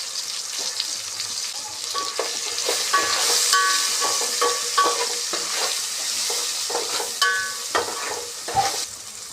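Onions and tomatoes fry in a pan for a Bhimavaram-style chicken pulao, with a steady close sizzle and repeated scraping strokes of a spoon stirring throughout, no voices.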